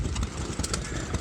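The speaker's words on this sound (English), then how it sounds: "it's a 1945 Fairbanks Morse Type Z, self-C, self-oiling 3-horsepower engine" A 1945 Fairbanks Morse Type Z self-oiling 3-horsepower engine idles with a close, low, uneven chugging pulse across a short stretch at an outdoor engine show.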